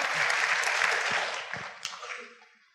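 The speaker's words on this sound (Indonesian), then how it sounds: "Aplaus dulu untuk Bapak Ibu semua luar biasa." Audience applause from a crowd at a motivational seminar, a dense wash of clapping that swells and then tapers off over a few seconds with no talk over it.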